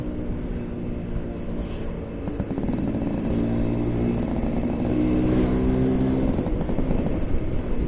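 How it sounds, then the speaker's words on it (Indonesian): A 1989 Suzuki A100 motorcycle engine idles close by with a steady, rough two-stroke-like rumble that swells slightly in the second half, alone with no talk. "kalau nyalain motor ini di rumah itu rada berisik"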